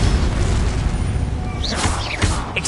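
Bombarda and Confringo spells explode in a Hogwarts Legacy battle: a couple of punchy blasts with crackling bursts land in quick succession over a continuous combat rumble.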